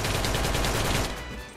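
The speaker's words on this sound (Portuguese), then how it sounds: "Para o tiro mesmo." Rapid gunfire in the Minecraft video game comes as a dense, loud stream of shots, then thins out and fades near the end.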